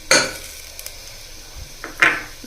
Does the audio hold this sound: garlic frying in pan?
yes